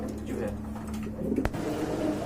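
A pair of Turinga pigeons at a pigeon sale coos in low, repeated throaty calls close by, with a brief sharp click near the middle and a faint background murmur.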